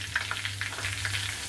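Garlic, chili and turmeric sizzle in hot oil as a tempering for kadhi, a steady close frying hiss dotted with small crackling pops throughout, with no voices.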